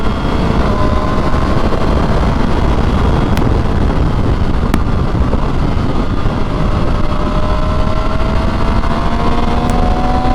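An MV Agusta Brutale 800 RR, a limited-edition naked race bike, roars steadily while being ridden, its engine note droning continuously under heavy wind buffeting on the microphone, with no pauses.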